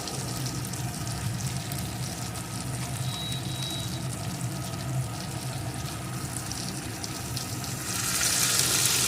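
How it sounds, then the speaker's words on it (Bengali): Pointed gourd (potol) and potato frying with spices in a pan for a rohu fish curry, a low steady sizzle with soft stirring close by, swelling louder and brighter in the final second. "এখন এই মশলার সাথে পটল আলুটাকে সুন্দর করে কষিয়ে নেব"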